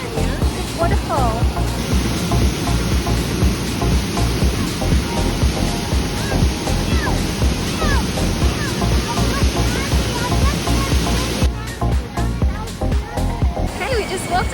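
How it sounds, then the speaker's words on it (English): A waterfall in the Cameron Highlands of Malaysia rushes steadily and loudly near a small footbridge on a rainy day, a constant broadband roar that carries on unbroken throughout. "It's a gorgeous waterfall to see."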